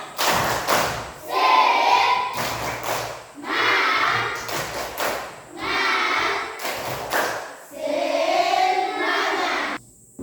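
Classroom of children performing a rhythmic spirit clap, sharp clustered claps in quick patterned bursts alternating with loud group chanting, repeated four times with brief pauses.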